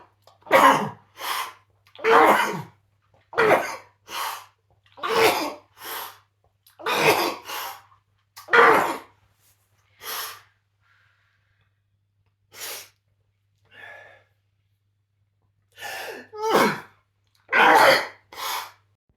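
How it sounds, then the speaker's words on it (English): A man sneezes over and over in a long fit, about a dozen loud, close bursts coming in quick clusters, with short gasps and a brief pause before the final rapid sneezes. "Sneezed like he never had in his life, over and over until he thought it was never going to stop."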